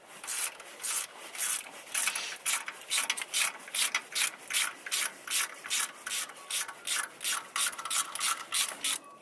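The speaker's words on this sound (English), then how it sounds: "So just screw this in now and it should start pushing that axle out." A wrench ratchets a bolt into a puller to press out a 4WD front wheel axle, with steady rhythmic clicking strokes repeating about twice a second, close and loud with no talk.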